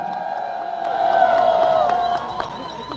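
Crowd at the Cheongsong apple festival in Korea clapping and cheering at an outdoor stage, swelling in the middle with whoops, while a voice carries over the noise.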